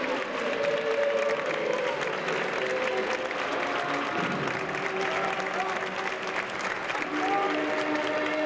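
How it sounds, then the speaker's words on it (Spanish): Steady applause from a large outdoor crowd at a Holy Thursday procession at the Concatedral de San Nicolás in Alicante, dense and continuous clapping with crowd murmur and some tonal music-like lines underneath, holding level throughout. "El público aplaude, ya está Cristo en la calle."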